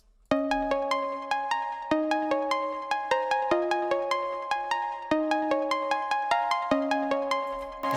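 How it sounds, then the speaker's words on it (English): A catchy, repetitive melody for a type beat, played as bright plucked piano-like notes in a steady looping pattern, clear and up front with no talking. "So this is the main melody,"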